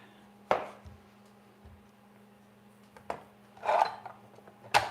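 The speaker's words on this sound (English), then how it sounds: "let me just cut up the tomatoes here" A knife cuts tomatoes, probably a serrated blade, giving a few sparse, soft chops and scrapes on a board with gaps between them over a faint steady hum.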